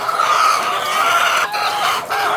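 Dense chorus of many laying hens clucking and murmuring together, about a hundred birds, steady and fairly loud throughout, with no talk.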